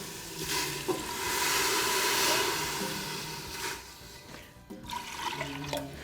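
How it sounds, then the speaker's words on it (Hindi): Water splashes and rushes steadily into a pot of minced meat, a continuous close, noisy pour with faint clinks near the end. "इसमें थोड़ा पानी मिलाएं"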